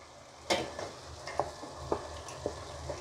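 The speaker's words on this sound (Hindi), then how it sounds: "जो मैंने ये लौकी कद्दूकस करा था अब मैं इसमें डाल देती हूँ" Grated bottle gourd cooking in a hot pan gives a faint, steady sizzle, broken by a handful of sharp scraping clicks from stirring at irregular intervals.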